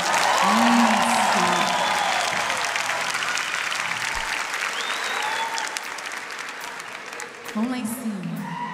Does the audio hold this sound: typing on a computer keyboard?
no